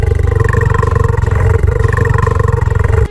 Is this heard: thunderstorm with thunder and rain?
no